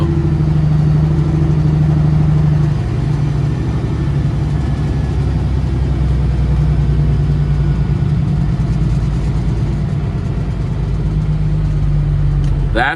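Steady low engine rumble from a passing road car near a Peterbilt 379 step deck truck at a drop site, holding loud and even across the span with no talk.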